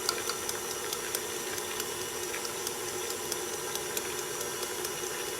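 An electric mixer whirs steadily through eggless sponge cake batter of yogurt, sugar and butter, giving a continuous hissing hum with faint regular clicks, moderately quiet and alone.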